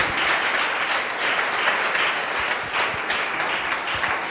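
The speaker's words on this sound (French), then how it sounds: "Give the Lord a big clap of it." A church congregation at an evangelical service claps steadily and loudly for the Lord, a dense continuous wash of applause with no voices over it.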